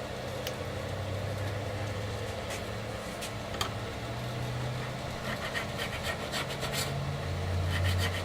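Fret on a Fender bass being sanded with 150 grit abrasive, a soft continuous back-and-forth rubbing that is steady and fairly quiet, close up, with no talking.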